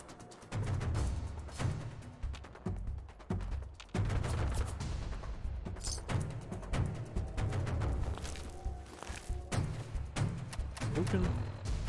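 Gunfire aimed at the player in Fallout 4, with sustained bursts of shots and booming reports crackling over a busy game soundscape, mostly loud with short gaps between volleys.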